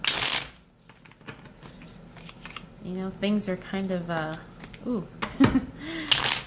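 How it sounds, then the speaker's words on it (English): A deck of tarot cards riffles and flutters in quick bursts while someone talks over them. "as I shuffle your cards right now"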